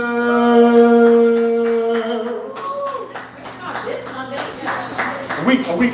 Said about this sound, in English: Could you clap it up